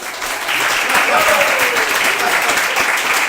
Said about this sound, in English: let's give a round of applause for Sally Bradshaw.